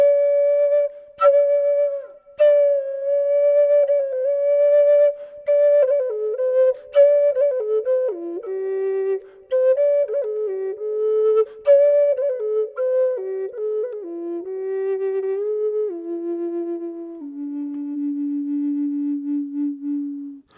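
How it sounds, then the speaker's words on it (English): A breathy Native American flute plays a slow solo melody, pure sustained tones stepping gradually downward in pitch with very subtle differences, with brief breaks between phrases. "If I go down the flute more and use this finger"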